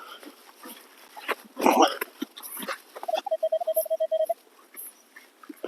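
A Minelab X-Terra Elite metal detector gives a repeated warbling beep tone near the end, several short pulses in quick succession, following rustling and digging noises from a dig site.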